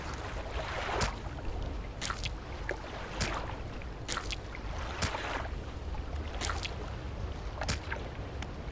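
Boat in the Dredge video game, a steady low rumbling drone with water wash and periodic sharp splashy bursts, fairly faint and unbroken.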